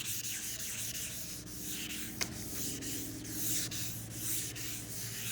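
A 600-grit pad wet-sands the body of a 1959 Chevrolet El Camino with a continuous close scrubbing rub in even back-and-forth strokes, with one sharp tap partway through and no voices.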